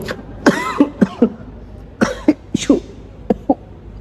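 A string of sharp coughs in quick bursts, several close together, with brief pauses between clusters, close and fairly loud.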